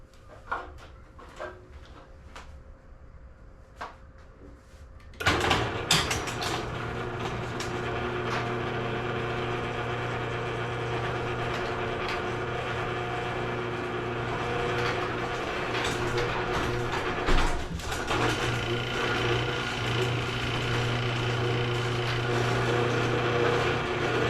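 A LiftMaster garage door opener, just fixed with a new travel module, gives a few faint clicks, then its motor kicks in and hums steadily and loudly at close range, with a single clunk partway through the run.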